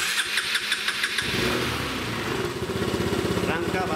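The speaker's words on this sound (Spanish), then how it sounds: "Arrancamos la motocicleta." A Honda PS or SH scooter-style motorcycle starts with a brief starter whir, then its engine catches and settles into a steady, close idle putter, with a voice talking over it.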